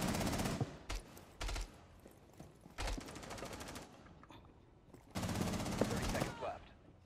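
Rapid automatic gunfire in the Rainbow Six Siege video game, several loud bursts of varying length with short pauses between, ending in a longer sustained volley, game sounds in the background.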